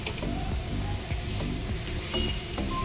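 Boiled rice being stirred and mixed with salt and chaat masala in a pan for mint lemon rice, a steady low sizzle with soft scraping strokes throughout, no talking.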